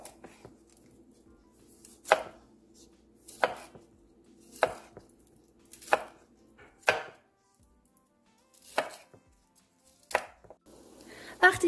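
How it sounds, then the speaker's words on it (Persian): A knife chops broccoli on a cutting board in about eight evenly spaced, crisp thuds, close and clear against near silence. "۶۰۰ گرم براکلی رو باید خرد کنیم"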